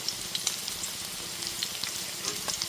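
Boiled soybeans with turmeric fry in hot oil over a low-to-medium gas flame, giving a dense, steady crackling sizzle with small pops, close up and without talk.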